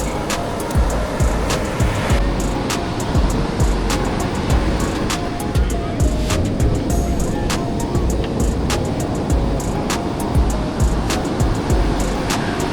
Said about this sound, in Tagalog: medyo kakaiba yung dagat talaga kasi malakas yung wave, malakas yung higop din pag gumaganon, pag kumahampas.